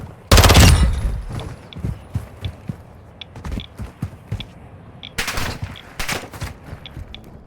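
Sharp bursts of gunfire crack out in Call of Duty Warzone DMZ, a loud volley at first, then scattered shots and another rapid burst, with soft footsteps in between.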